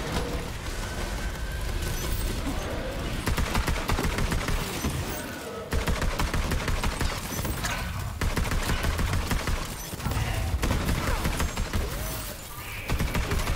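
Dense, rapid gunfire from a shooter video game, bursts of automatic shots crackling almost continuously and loudly for the whole stretch, with brief dips between volleys.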